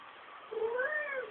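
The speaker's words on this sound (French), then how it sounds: "elle fait un petit miaou et après elle mange" An elderly 20-year-old cat gives a single small meow, a rising then falling tone that starts partway through and carries on to the end, fairly faint and heard alone without any talk.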